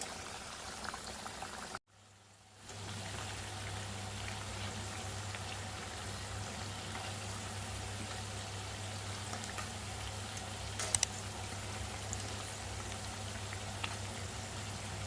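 Pudina chekkalu, mint rice crackers, frying in hot oil, a dense continuous bubbling sizzle that holds steady throughout, briefly dipping to near silence early on, with a few faint clinks.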